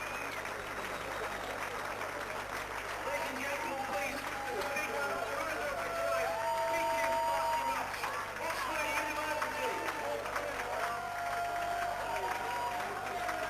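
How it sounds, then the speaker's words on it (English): A crowd applauds the Oxford players at a rugby league varsity match against Cambridge, a continuous distant clapping and crowd murmur running under a commentator's voice. "Crowd certainly rising to the occasion, giving the Oxford players a great round of applause"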